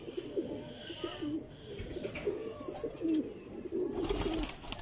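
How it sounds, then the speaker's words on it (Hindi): Pigeons coo softly and repeatedly in low, rolling murmurs, several birds close by, with faint background rustling and shuffling. "ये दोस्तों मेरे पुराने कबूतर हैं"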